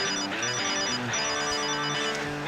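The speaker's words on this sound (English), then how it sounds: "There is nothing worse than getting a phone call when you're fighting a fish." A mobile phone ringtone plays on a fishing pier in Charleston, South Carolina, during spotted seatrout fishing. The melody is steady and continuous, clearly audible over light outdoor background noise.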